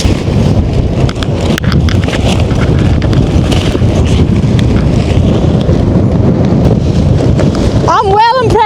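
Strong wind of about 50 mph buffets the microphone on a remote Scottish loch shore while a tent is pitched, a loud continuous roar with gusty rumble throughout and a brief voice near the end.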